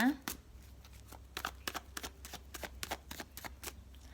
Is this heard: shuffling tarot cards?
yes